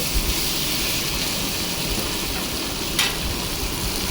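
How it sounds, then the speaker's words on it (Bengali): Fried potatoes are stirred into a spice paste in a pan, giving a constant close sizzle and hiss, with a brief sharper scrape of stirring around the middle. "এবারে ভাজা আলুগুলো মশলা কষানোর মধ্যে দিয়ে দিলাম দিয়ে আর একটু কষিয়ে নিতে হবে"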